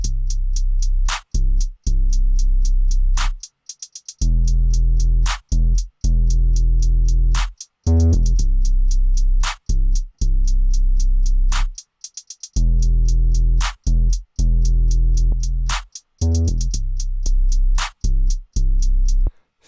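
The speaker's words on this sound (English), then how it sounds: "The distortion is going to help your 808 stand out a little more." Heavy, gritty distorted 808 bass notes, made with Ableton stock plug-ins, hit in a repeating rhythm with crisp clicks on top, loud and upfront with no voices.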